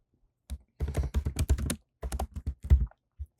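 Fingers tap out text on a computer keyboard in quick, irregular clusters of crisp clicks, close and clear, with a short pause midway and a final single keystroke.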